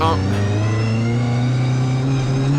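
A Mitjet race car engine at the rolling race start at Magny-Cours, a loud steady drone heard from inside the car as it climbs through the revs.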